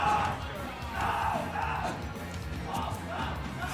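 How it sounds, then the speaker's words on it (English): Crowd at a Super Smash Bros. Smash 4 tournament cheering and yelling in sustained waves, with a commentator's voice running over the noise. "Crowd going wild for Cookietic."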